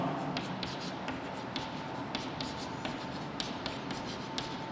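Chalk or marker scratches on a board in quick, light strokes while someone works through a math equation, with the soft, uneven tapping of writing continuing steadily and faintly throughout, over a background hiss.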